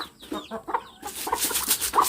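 Chickens cluck in short, close bursts, a few calls at first and then denser clucking over steady rustle toward the end, with no voices.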